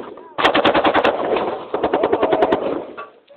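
Rapid bursts of automatic gunfire ring out in a long string of sharp, evenly spaced shots, loud and close, pausing briefly before another fast volley follows.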